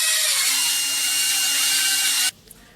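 A handheld electric hair styling tool buzzes loud and close like a drill, a steady high whine for about two seconds before cutting off abruptly into near quiet.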